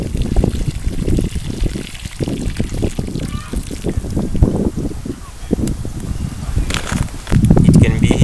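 Water pouring and trickling into a bucket to soak a bag of manure, splashing in bursts under a person talking, with a louder gush near the end.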